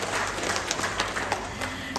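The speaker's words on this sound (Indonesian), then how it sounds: "Tepuk tangan untuk panjenengan semua" Audience applause at a community medical event where donations are being handed out: a steady, dense patter of many hands clapping in a room, sustained evenly through the moment without a clear break.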